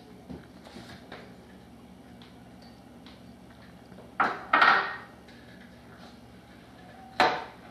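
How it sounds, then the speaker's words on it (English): A pasta dish with grated Parmesan cheese is stirred in a pot with a spoon, giving a few faint scrapes and clinks and then three louder clattering knocks against the pot, with no talking. "We're just going to stir all this goodness up."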